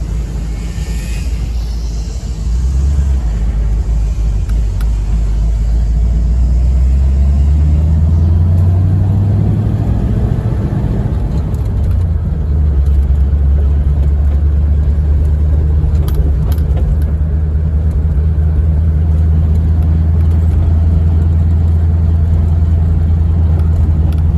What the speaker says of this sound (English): There's a short drive in our 1940 Mercury 8 convertible.